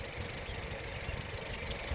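A car engine idling in park, a steady low hum with a faint rattle and a constant high whine layered on top, running evenly and close by with no talk.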